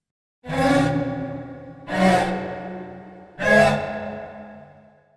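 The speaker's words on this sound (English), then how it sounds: "which has an interesting resonant delay effect on it that you'll hear" Three evenly spaced bowed cello hits with a resonant delay effect, each swelling and ringing out with a resonant, echoing tail.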